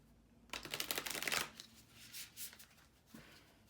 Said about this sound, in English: Let's shuffle these cards right.